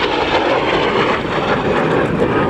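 Red Arrows jets roaring overhead at the RAF Cosford airshow, a loud, steady broadband jet rumble that fills the whole stretch without a break.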